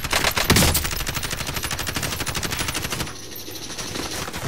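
Rapid automatic gunfire in the battle royale shooter Warzone, a dense steady stream of shots with a heavy burst near the start, continuing loudly and evenly throughout with no talk.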